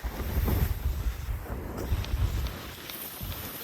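Wind-driven sea and breaking waves surge around a small sailboat offshore near Brest, France, a steady rough wash with buffeting wind on the microphone and louder swells in the first half.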